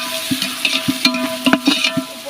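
Tomatoes fry and get stirred in a pan for chicken biryani, a close, steady sizzle broken by repeated scraping and clacking strokes of a spoon against the pan, with no talk.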